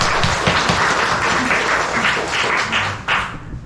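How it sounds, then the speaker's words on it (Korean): A church congregation claps together in sustained, dense applause that fills the room for several seconds, then tapers off toward the end. "우리 다 같이 다시 한번 하나님 앞에 박수로 영광을 돌리겠습니다"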